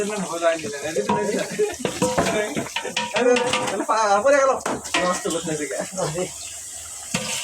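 Chanachur, a Bengali snack mix, fries and is stirred in hot oil, a sizzling hiss with scraping beneath prominent nearby talking voices.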